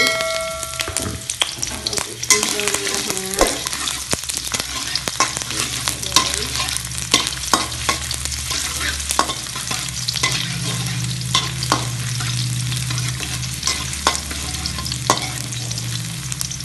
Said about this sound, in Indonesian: Cara buatnya adalah kita goreng bawangnya dulu.